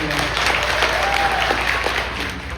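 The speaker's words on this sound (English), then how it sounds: "can you all please give him a big round of applause?" Audience applause at a Utah Tibetan Association welcome gathering, a dense steady wash of clapping lasting the whole stretch, fairly loud and close, fading slightly at the end.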